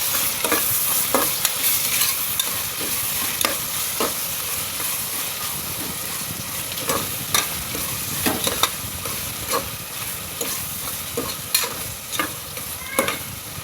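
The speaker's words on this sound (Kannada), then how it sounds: "ಇದು ಸಾಫ್ಟ್ ಆಗಬೇಕು, ಅಲ್ಲಿ ತನಕ ಫ್ರೈ ಮಾಡ್ಕೊಳ್ಳೋಣ." Tomatoes frying in a pan as part of an egg biryani give a steady, close sizzling hiss, broken by regular scraping clicks from stirring throughout.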